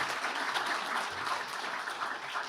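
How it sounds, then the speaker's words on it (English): An audience at a city event applauds the mayor and council, a soft, even wash of many hands clapping throughout. "Let's give our mayor and council a round of applause"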